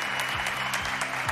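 Applause for a singer on a televised singing talent show, a short burst of dense, steady clapping from the studio audience with a low tonal hum beneath it.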